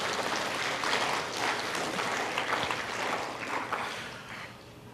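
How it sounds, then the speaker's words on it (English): Sustained applause from a large audience at a school honor society induction ceremony, a dense wash of clapping that stays steady and slowly tapers off. "give them a big round of applause"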